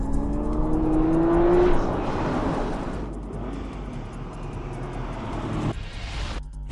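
A Nissan GT-R and a Ford GT race around a cone course, engines roaring and revving loudly with rising pitch, then settling into a sustained, slightly distant drone.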